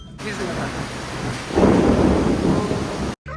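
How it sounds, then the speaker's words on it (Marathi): Thunder and lightning rumble loudly and build halfway through a sudden storm in Satara, India, with steady rain hissing around it and a brief cutout near the end. "आवाज ऐका नुसत्या विजा"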